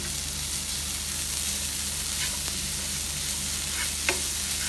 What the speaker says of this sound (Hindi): हाई फ्लेम पे भून रही हूँ